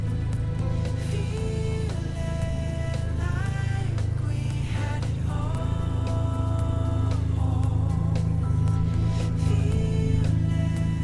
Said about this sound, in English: Gotta love the rotary sound.